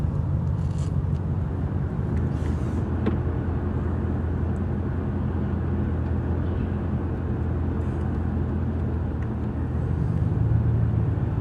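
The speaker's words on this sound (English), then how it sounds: "this is the rush hour traffic report" Rush hour road traffic in Dallas, Texas, heard as a continuous low rumble of passing cars and engines, steady and fairly loud, with occasional brief higher whooshes over the dense background drone.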